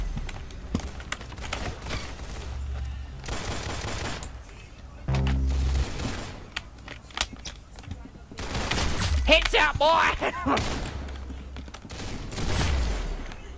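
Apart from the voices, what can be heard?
gunfire in Roblox Arsenal video game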